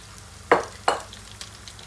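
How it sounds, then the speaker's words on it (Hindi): Corn fries over a medium flame for crispy restaurant-style corn, a low soft sizzle punctuated by two sharp metallic clinks of a utensil against the pan and a fainter tap afterward. "इसको फ्राई होने देते हैं।"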